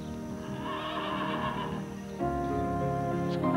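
An old horse whinnies in a long, loud neigh close by, its call shifting and rising partway through, with no talk over it.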